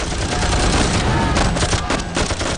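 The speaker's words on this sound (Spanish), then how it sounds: "las bombas cayendo, la explosión de los proyectiles, la gente gritando" Battle gunfire from the Vietnam War in 1964–1965, a dense, loud, continuous barrage of rapid machine-gun bursts and shots with booming impacts, unbroken throughout.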